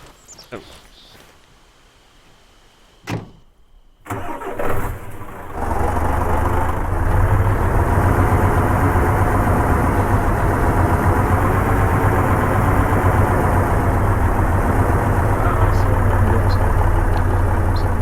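In the Arma 3 video game, after a few clicks and knocks, a vehicle engine starts and settles into a loud, steady low rumble that continues unchanged.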